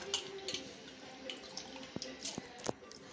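Water trickling and dripping into soaked rice in a vessel before grinding, faint irregular splashes and drips over a quiet indoor background.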